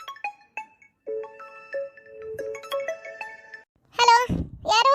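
A mobile phone plays a melodic electronic ringtone of repeated tonal notes, loud and close, with a voice breaking in near the end.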